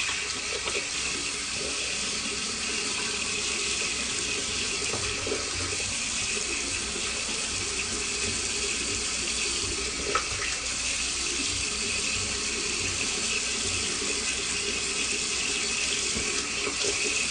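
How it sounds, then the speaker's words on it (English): Tap water runs steadily and continuously into a sink while someone wets their face during a wet shave, a close, even splashing rush with no talk over it. "Just gonna wet my face really quick."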